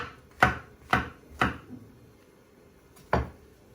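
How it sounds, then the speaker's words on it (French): Mushrooms being finely chopped with a knife on a board: four crisp, close knife strikes in a quick uneven rhythm, a pause, then one more cut, with no voices. "Pareil pour les champignons, on va les couper"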